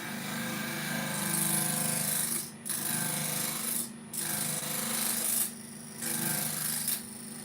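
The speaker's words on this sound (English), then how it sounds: "can you hear that now? That little fracture hitting the tool rest?" A fractured olive ash bowl spinning on a wood lathe and scraping against the tool rest gives a steady rasping rub. The sound is broken by several brief pauses and has no voices.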